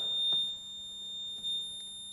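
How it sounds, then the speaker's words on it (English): A layer sensor on a Class I oil separator sounds its alarm as a steady, high electronic tone that continues throughout, with faint handling clicks underneath. "So the layer sensor I just lifted up, that is giving an alarm now."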